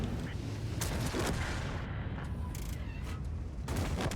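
Video game tank cannon fire with gold ammunition booms in heavy, rumbling volleys during a battle, loud and continuous with overlapping blasts and no clear talking.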